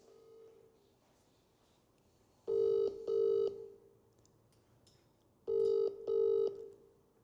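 An outgoing call rings through a telephone line, two pairs of double-burst ring tones separated by a quiet gap, clear and steady against low room noise.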